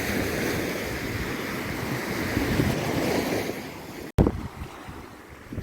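Black Sea surf washing onto the shore of the Tuzly Lagoons coast, a steady broadband wash with wind buffeting the microphone, briefly cut by a sharp dropout near the end before the rolling water resumes at a lower level.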